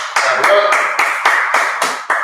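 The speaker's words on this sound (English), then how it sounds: "Clap it up." A group claps in quick, uneven bursts of applause, loud and close, with voices mixed in underneath.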